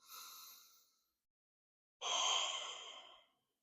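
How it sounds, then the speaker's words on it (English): Two long, breathy exhales during a beginner yoga flow, the first soft and fading after about a second, the second fuller and stronger after a short silence, both close and unaccompanied by talk. "Back to a nice long exhale"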